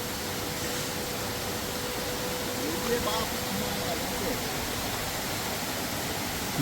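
Mountain streams and a waterfall on Datar hill flow with a constant, even rushing hiss that stays steady and unbroken throughout.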